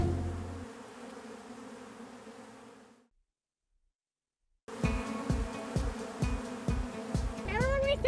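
Honey bees buzz around bee boxes being moved with a forklift, a steady hum broken by a short silence, then returning louder with rhythmic thumping machinery and voices talking.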